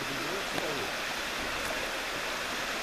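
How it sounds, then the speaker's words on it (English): A babbling brook, Cedar Creek at Natural Bridge, Virginia, gives a steady broadband rush of running water, continuous and fairly soft, with no clear voices. "Nice babbling brook."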